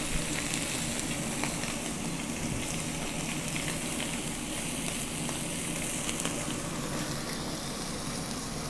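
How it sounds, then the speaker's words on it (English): Tri-tip searing on the griddle of a Camp Chef Woodwind smoker, a steady broadband sizzle that holds at an even level with faint crackles throughout, close by with no voices. "See if we can get us a good sear on that."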